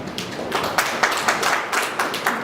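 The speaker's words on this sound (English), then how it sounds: "Let's applaud our media team" An audience claps for a media team at an industrial parks event, a short burst of steady, fairly close applause with individual hand claps standing out in an even rhythm.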